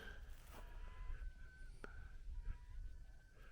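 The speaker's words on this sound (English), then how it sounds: "you hear the seagulls making good noise" Seagulls call faintly along the shore as the tide moves, a few thin, distant cries over a steady wash of wind and water.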